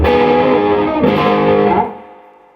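A sustained chord on an electric guitar rings out through an amp and then fades away. Its tone sounds somewhat driven rather than clean.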